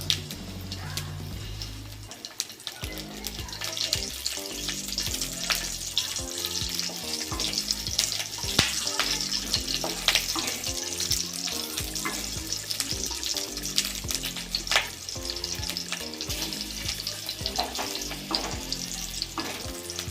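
Nigella seeds and two dried chillies sizzle in hot oil in a pan, a continuous close crackle and spatter with occasional stirring clinks.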